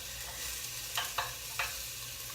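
Sweet potato frying in a pan gives a steady hiss of sizzling, broken by a few quick scraping stirs close by.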